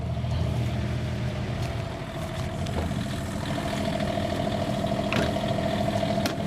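An Onan quiet diesel generator, 8,000 watt, mounted on a Newmar Ventana 4002 Class A motorhome, runs with a steady even hum and a constant tone at a moderate distance.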